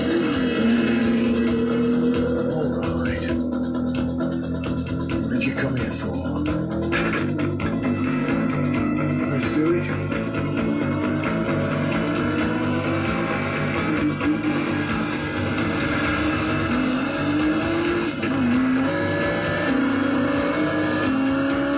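Engine note of a race car on track, a sustained loud drone with rising and falling revs as it accelerates and shifts, continuous and close throughout.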